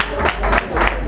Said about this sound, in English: Big round of applause for Ankit Sharma.